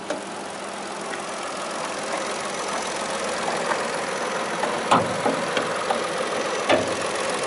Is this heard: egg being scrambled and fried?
no